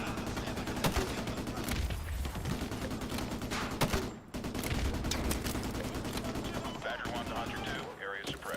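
Dense, continuous gunfire and heavy explosive thumps from mortar fire in the video game Modern Warfare 2 Remastered, loud and sustained with overlapping rapid shots and deep booms, a brief lull near the middle.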